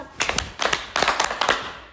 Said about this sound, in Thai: นักเรียนทั้งหมดเตรียมพร้อม ปรบมือ 5 ครั้ง